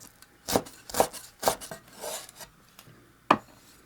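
A kitchen knife strikes a cutting board while mincing two thin slices of fresh ginger, about 3 grams: a handful of distinct, close chops spaced apart, with quieter scraping between them.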